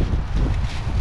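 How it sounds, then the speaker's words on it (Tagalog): Strong wind buffets the microphone outdoors at sea during drizzle on a cuttlefish hunting trip, a steady low roaring rumble with gusty swells and no voices. "Dahil malakas na yung hangin tsaka umaambon"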